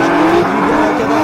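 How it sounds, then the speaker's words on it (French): A drift car slides fast into a corner on a dry track at a drift competition, its engine and tire noise blending into a loud, sustained roar with squealing tones, and a commentator talking over it. "qui arrive vite sur ce virage, qui est bien en cadence. Ça fume beaucoup pour Frédéric Adam."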